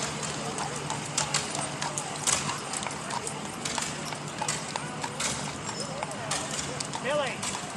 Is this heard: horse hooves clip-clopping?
yes